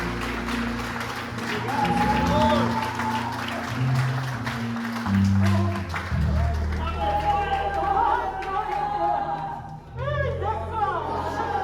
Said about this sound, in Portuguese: A melhor salva de palmas para Jesus nesta noite.